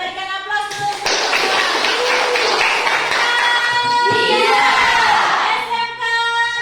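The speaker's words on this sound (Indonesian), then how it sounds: "Kita berikan aplaus dulu." Students in a vocational high school classroom applaud, with dense, steady clapping that lasts several seconds at close range and carries a few voices calling out over it.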